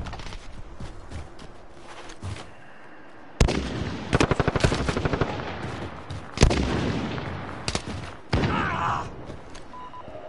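Gunfire in Call of Duty Warzone: bursts of rapid automatic shots in several volleys, close and loud, with quieter stretches between them and game effects in the background.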